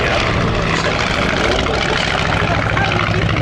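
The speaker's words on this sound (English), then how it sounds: "this particular one built by Westland Aircraft in '36" Westland Lysander, a 1936-built vintage propeller aircraft, flying at the Shuttleworth vintage airshow, its engine drone loud and steady throughout with a constant rumbling roar.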